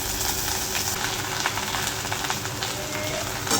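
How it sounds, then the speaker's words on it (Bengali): Onion and okra frying in oil in a pan, a dense, even hiss of sizzling like light rain, moderately loud and continuous with faint stirring touches. "এরপরে পেঁয়াজ আর ঢ্যাঁড়সটা ভাজা ভাজা করে নিলাম।"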